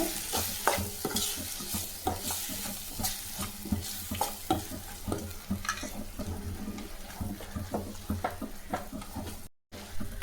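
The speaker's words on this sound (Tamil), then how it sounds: "தனி மிளகாய் தூள் போட்டு நல்லா வதக்குங்க" Chili powder sautés in a pan for South Indian egg rice, with a spatula repeatedly scraping and stirring over a low, steady sizzle at close range.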